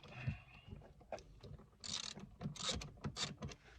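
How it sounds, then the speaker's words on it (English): A ratchet with a 14mm socket loosens seat bolts in a third-generation Toyota 4Runner, its pawl clicking in quick close bursts between brief pauses, with no talking. "Take your 14mm and just go ahead and loosen these up."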